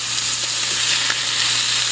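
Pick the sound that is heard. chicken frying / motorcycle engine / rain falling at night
chicken frying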